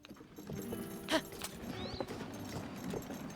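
Horse hooves clip-clop steadily in Zelda: Tears of the Kingdom as the horse drags a load with a towing harness, a continuous mid-level rhythm with game ambience.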